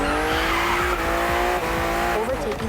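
BMW M2 and M4 cars race in The Crew Motorfest video game on a narrow road full of sharp bends, engines droning steadily with a brief tire skid as they corner, a voice talking over the sustained engine roar.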